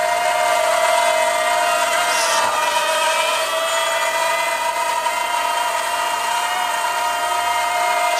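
Zerotech Dobby quadcopter drone holding a hover outdoors in wind, a steady high-pitched motor and propeller whine that stays loud and close, with faint rustle underneath.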